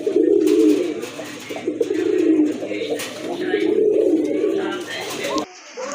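A male pigeon coos in a series of low, throaty, rolling calls, loud and close and repeated almost without pause, with faint background noise around it.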